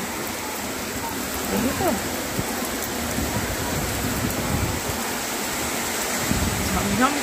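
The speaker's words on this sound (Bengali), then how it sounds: "ঝমঝম করে বৃষ্টি পড়ছে মুষলধারে সকাল থেকে।" Heavy morning rain pours steadily onto a balcony, a dense continuous hiss throughout with a few brief spoken words over it.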